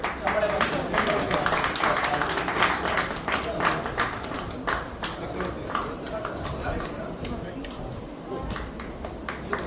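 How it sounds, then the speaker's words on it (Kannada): Clapping from a crowd at a Kannada bhajan gathering for Sri Raghavendra Swamy aradhana. The claps are dense and continuous, with sharp individual claps audible throughout, and voices are heard amid the noise. "ಚಪ್ಪಾಳೆ ಬರಲಿ."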